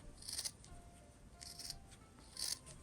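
Scissors snip through scrap fabric in three short, soft bursts spaced about a second apart, faint and close in a quiet room.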